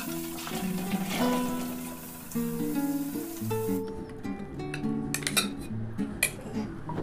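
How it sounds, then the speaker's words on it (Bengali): Dishes and cutlery being washed at a home sink, with repeated clinks and clatters of plates and spoons, close and steady, with a few sharper knocks near the end. "এবার গিয়ে কটা বাসন আছে ধুয়ে তারপর গিয়ে মেয়েকে ঘুম পাড়াবো।"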